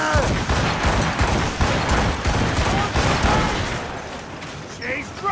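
Naval cannon volleys boom in a sea battle in Assassin's Creed Rogue, heavy rumbling blasts layered under shouted crew voices and battle noise throughout.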